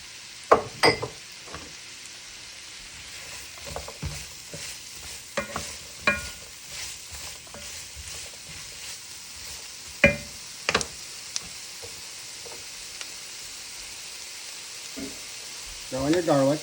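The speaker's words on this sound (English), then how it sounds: "Let this saute for a little while and soften up." Carrots and celery sautéing in a pot, a low steady sizzle broken by repeated scraping stirs and occasional clinks of a spoon against the pot, close and unhurried.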